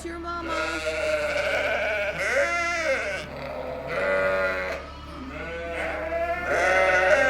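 A lost lamb bleats repeatedly, several drawn-out wavering calls close by with short pauses between them, and no talking.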